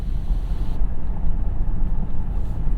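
Outside road noise through a cracked window of a moving 2025 Genesis GV80, a steady loud low rumble of tires and wind that rushes on without a break.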